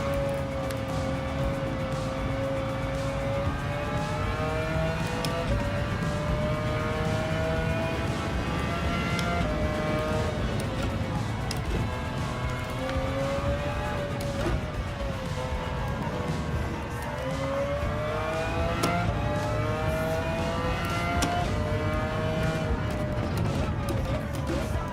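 McLaren race car in Gran Turismo 7, its engine droning steadily throughout with rising and falling pitch as it accelerates and shifts, loud and continuous with occasional clicks and bumps layered over it.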